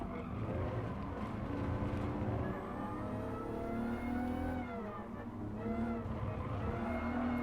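Supra race cars in Gran Turismo Sport, a constant droning engine note with rising and falling revs through gear changes, loud and unbroken with no talk.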